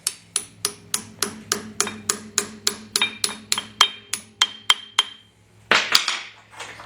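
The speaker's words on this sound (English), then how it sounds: "Give it a few taps." A key is tapped into a Willys CJ2A axle hub with a series of about fifteen evenly spaced, ringing metallic hammer taps, close and crisp, ending with a heavier clank.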